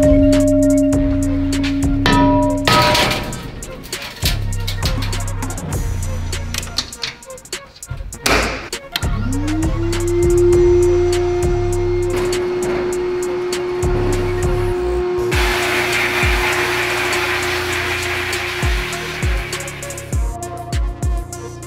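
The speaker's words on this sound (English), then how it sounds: "I always like to sandblast to give it a nice like rough finish" Sandblasting a part to rough its surface before powder coating: a broad, steady hiss of blasting media rises in the later seconds, over earlier scattered thumps, taps and a sustained tonal hum.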